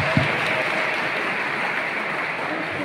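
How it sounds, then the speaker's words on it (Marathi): An audience at a personality development session at ITI Wagle Estate gives loud applause, dense sustained clapping for a few seconds with no talk over it. "जरा जोरदार टाळी वाजवतो."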